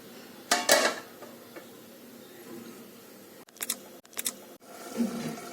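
A lid clatters onto a pot of tomato and drumstick curry with coriander added: a loud clinking knock early on, then a cluster of lighter metallic taps a few seconds later, with no talking.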